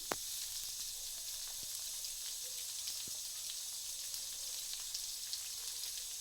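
Onion pieces and curry leaves sizzle in hot oil in a pan, giving a steady, fairly quiet frying crackle with a few sharp pops and stirring taps near the start.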